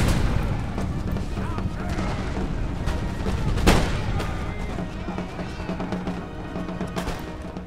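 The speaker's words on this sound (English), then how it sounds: "Oh, point blank volley." Point-blank musket volley in Empire Total War, a rolling crackle of massed gunfire with one sharp burst near the middle, set within constant distant battle noise and musketry.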